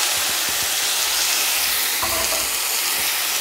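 Boiled drumstick (moringa) leaves and onion frying in hot oil, a loud, steady sizzle with rough scraping and stirring noises running underneath throughout.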